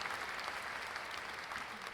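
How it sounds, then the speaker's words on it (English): Goon characters applaud in the video game Sucker For Love, a brief dense burst of many hands clapping together, steady and fairly loud with no voices over it. "I think the goons are clapping for us"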